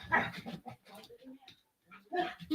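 Dogs whimper, yip and bark in short, uneven bursts indoors, with brief gaps between them and a person talking over them.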